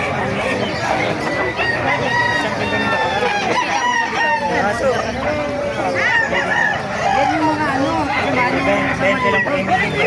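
Roosters crow repeatedly with scattered hen clucking, a busy, loud yard chorus running throughout with a voice briefly mixed in, at a chicken market in Bocaue, Bulacan.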